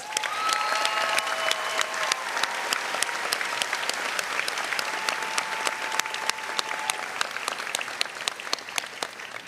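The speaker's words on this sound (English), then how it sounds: "Please give them a round of applause." Sustained audience applause fills a commencement ceremony hall at Royce Hall, many hands clapping steadily and evenly for the whole stretch, moderately loud with no voices standing out.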